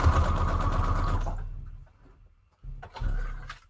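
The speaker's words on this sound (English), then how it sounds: "I'm just gonna use a straight stitch for this. Just gotta sew her on in various" A sewing machine runs a straight stitch for about a second and a half in a steady loud whir, stops, then starts again in a shorter burst; no one talks.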